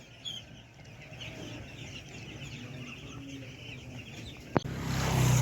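Chickens cluck softly at a poultry farm amid a steady low farm-shed hum, with a brief sharp knock near the end as the background grows louder.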